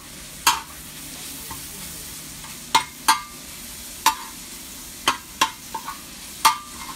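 Green onions and ginger cooking in a stainless steel gas wok cooker, a low steady sizzle broken by several sharp metallic clanks of a utensil striking the wok at irregular intervals.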